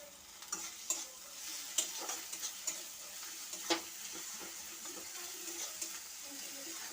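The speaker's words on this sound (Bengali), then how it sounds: "দেখো মশলাটা কষানো হয়ে গেছে।" Spice masala sizzling softly in a pan while being stirred, with light scraping clicks and a few sharper knocks over a low steady fry; no speech.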